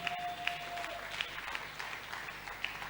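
A church congregation applauding after a scripture reading, a steady patter of many hands clapping throughout, moderately distant and soft with a few sharper individual claps standing out.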